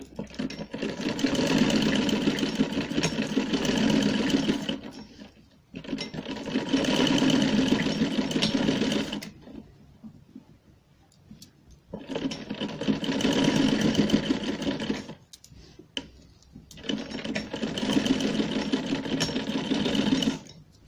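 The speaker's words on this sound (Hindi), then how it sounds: "अब मैं इस पे यहाँ ऊपर सिलाई करूंगी।" A sewing machine stitching a baby frock runs in four long bursts of steady, whirring mechanical clatter, separated by brief near-silent pauses, close and loud with no talk.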